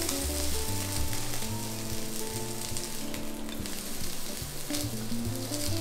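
Lamb chop fat rendering slowly in a hot pan, a steady dense sizzle and crackle that stays loud and close throughout, with no voices.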